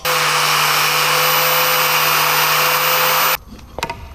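A power tool, likely an angle grinder, cuts off corroded car parts during engine removal from a Nissan 370Z twin turbo, with a loud, steady high whine for about three seconds before stopping, followed by a few clanks.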